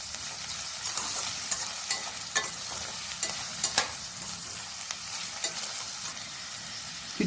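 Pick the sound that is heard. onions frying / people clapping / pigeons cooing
onions frying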